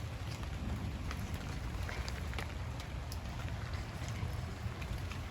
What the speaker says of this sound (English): Even with this rainy weather,